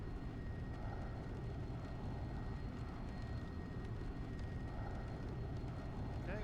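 An airplane engine roars steadily during takeoff in the X-Plane flight simulator, a loud constant low rumble with someone talking over it.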